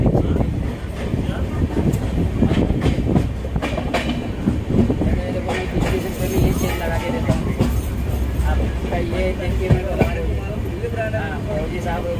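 Rajdhani Express passenger train pulling away past Jwalapur station on the Haridwar line, a loud, steady rolling rumble with wheel clatter and rail noise that runs continuously from start to finish, heard close from on board.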